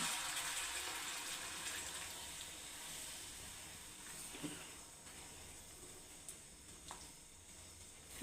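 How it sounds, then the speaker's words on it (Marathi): Hot water poured into frying whole-spice masala for Khandeshi sev bhaji, a steady broadband sizzle and gush that fills the pan throughout, with a few brief clinks and stirring scrapes midway. "पाणी घालताना गरमच वापरायचं आहे हे बघा थोडंसं परतलं गेलं आता पाणी घालते"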